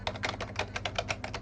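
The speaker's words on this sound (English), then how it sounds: "And here's the keyboard" Quick, steady clicking of fingers typing on a computer keyboard used with a Raspberry Pi, close and fairly quiet, with no voices.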